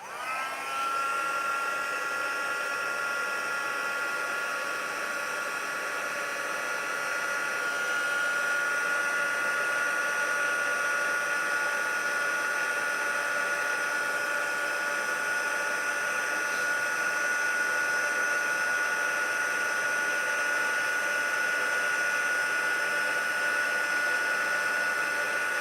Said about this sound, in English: This heat tool is getting its run for its money today.